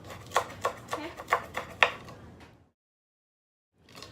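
A knife chopping lime leaves on a cutting board in a home Lao kitchen, about seven crisp evenly spaced taps, close and clear, followed by a second of silence and then a faint returning sound.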